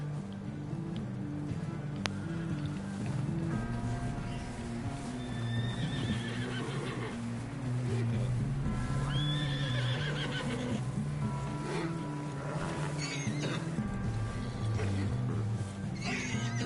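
Horses in a Red Dead game give several loud whinnies over rhythmic hoof clip-clops and a low rumbling backdrop, heard close and continuous.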